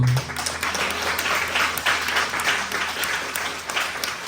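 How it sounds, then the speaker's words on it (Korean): A church congregation at a summer Bible school revival applauds in thanks after a prayer, with continuous full-room clapping that stays steady and fairly loud throughout. "하나님 앞에 감사의 박수"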